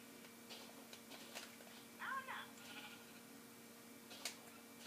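A single short sheep bleat from a Minecraft game sounds faintly against a steady electronic hum, with a few soft clicks around it.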